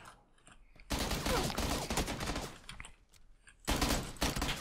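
Gunfire in PlayerUnknown's Battlegrounds comes as loud bursts of rapid shots, a long stretch of sustained fire, a short pause, then another burst, with no one speaking.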